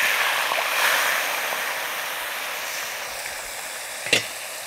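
Dry shark fish pieces fry in hot oil with a steady, even sizzle that holds throughout, plus one brief clink near the end and no talking.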